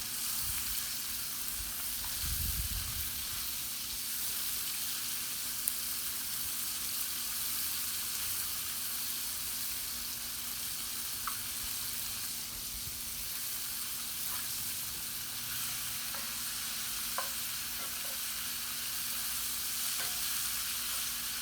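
Butter sizzling for eggs on a Big Green Egg grill outdoors, a steady soft crackling hiss throughout with a brief low thump early on and occasional faint ticks.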